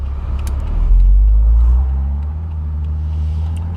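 A warmed-up 1970 Mercedes-Benz 280 SE Cabriolet engine runs close by with a deep, steady rumble that swells briefly and then settles back to an even idle.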